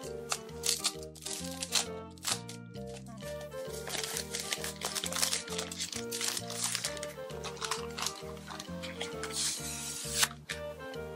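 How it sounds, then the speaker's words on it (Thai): A packaged mouse pad is unwrapped by hand, giving close, busy crinkling and rustling of plastic packaging with occasional crunches, with background music playing throughout. "ลองแกะดูค่ะ"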